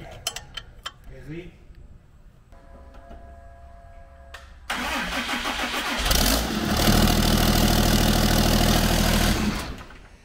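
A Plymouth 'Cuda engine cranking and catching, then roaring into a loud, rough, rumbling run that holds steady for several seconds, after a few clanks and faint voices beforehand.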